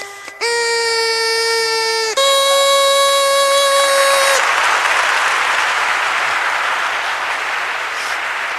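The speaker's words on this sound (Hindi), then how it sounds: "आप तालियां बजाएं, एक बार अंत में तालियां बजाएं।" An indoor audience breaks into steady applause at a science demonstration, following a couple of buzzy straw-whistle tones that step up in pitch before the clapping takes over and carries on to the end.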